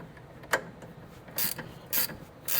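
A ratchet wrench tightens a sway bar link nut on a Scion xB, giving a few short bursts of rapid clicking close up with brief pauses between strokes.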